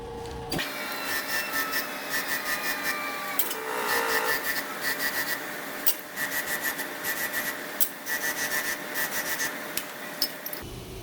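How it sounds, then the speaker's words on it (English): Bench grinder with a wire wheel deburring a piece of wire, a steady close motor whine with repeated rasping, scraping contacts as the wire is pressed and pulled against it. "All that on the bench grinder and the wire wheel was just so it's not sharp, it's deburred, no sharp edges"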